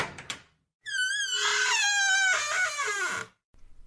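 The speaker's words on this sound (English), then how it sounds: "The locked door then opened," Locked door creaking open during a Rumpelstiltskin puppet show, a long drawn-out wavering squeal lasting over two seconds after a couple of faint knocks, ending with a quiet thud.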